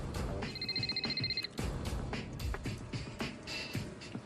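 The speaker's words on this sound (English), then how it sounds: "That afternoon, Paulo's phone rang." A telephone rings in repeated steady trills, moderately loud and slightly distant, over a busy background of low rumble and clatter, with no speech.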